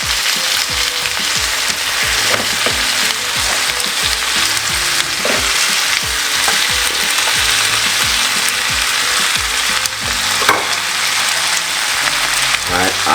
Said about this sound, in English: So you just want to fry up these vegetables.